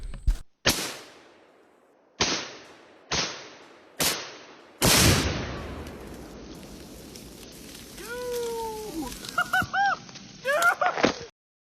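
Fast-burning pistol powder ignited outdoors on a farm: several sharp cracks, then a louder whooshing burst that fades, followed by distant bird chirps.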